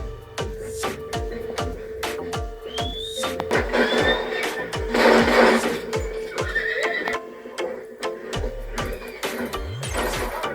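In the video game Red Dead Redemption 2, hooves clip-clop in a steady rhythm as a horse neighs loudly midway, with a snort near the end and no talking.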